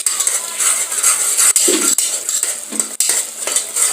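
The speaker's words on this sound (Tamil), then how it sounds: "வெங்காயம் வதங்கிச்சு, பூண்டு, இஞ்சி போட்டு வதக்குங்க." Onion, garlic and ginger sautéing in a pan for a chicken, potato and drumstick salna, with a steady bright sizzle and repeated metal clinks of a spoon stirring against the pan, no talk.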